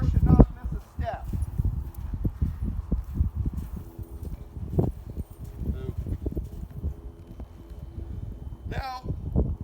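Horse hooves clip-clopping on soft ground during turnaround training, a steady run of quick, rhythmic thuds close by, with a person talking and occasional rustling mixed in.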